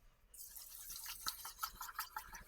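Uncooked rice being washed in water in a home kitchen, a soft continuous wet swishing and rubbing of grains with small drips and splashes, close and steady throughout.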